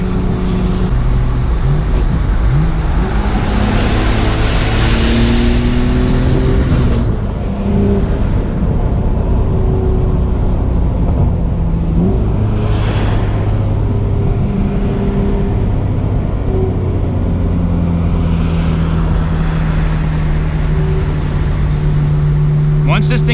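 A car engine pulls hard under acceleration from inside the cabin, its pitch climbing in repeated surges with gear changes, loud and continuous throughout.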